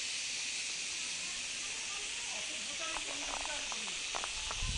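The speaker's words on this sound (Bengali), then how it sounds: "পুরো ঝিঝি পোকার ডাক দিয়ে শোনা যাচ্ছে।" Insects chirping in a sal forest at Buxa Tiger Reserve make a steady high hiss throughout, with a few brief closer rustles and clicks near the end.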